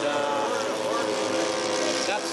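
A giant-scale radio-control Messerschmitt ME262 with a 103-inch wingspan runs its turbine engine. A steady, loud jet whine and roar hold for the full span, with no change in pitch.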